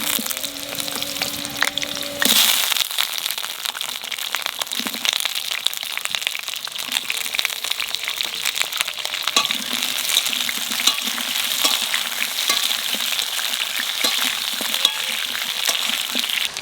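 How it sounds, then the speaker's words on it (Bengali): Potatoes fry in a pan with green chillies for Bengali ilish jhol, a loud continuous sizzle with crackling and stirring scrapes; a brief clatter near the start, then steady frying throughout with no speech. "এবার আলু দিয়ে দেবো।"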